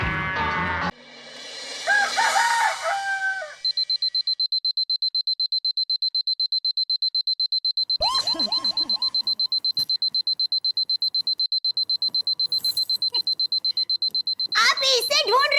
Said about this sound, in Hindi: तुम अलार्म लगा देना 5 बजे की